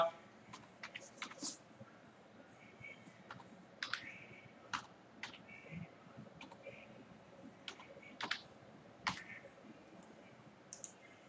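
Someone types an Aadhaar number on a computer keyboard while filling in an online recruitment form, giving sparse, close, quiet key clicks in irregular bursts over a faint background.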